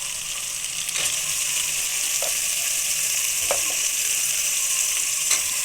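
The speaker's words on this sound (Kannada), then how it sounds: "ಹಾಕಿರೋ ಮಸಾಲೆ ಎಲ್ಲ ಅಂದರೆ ರುಬ್ಬಿಟ್ಕೊಂಡಿರೋ ಮಸಾಲೆ ಮಾತ್ರ ನಾನು ಹಾಕಿ ಫ್ರೈ ಮಾಡ್ಕೊತಾ ಇರೋದು." Ground masala fries in a pan for vegetable pulao, a steady close sizzle broken by a few sharp stirring clicks and scrapes.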